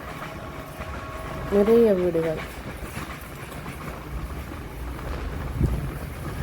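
A passenger train travels through Sri Lanka past houses built close beside the track, with a low rolling rumble and wind buffeting the microphone beneath a person speaking.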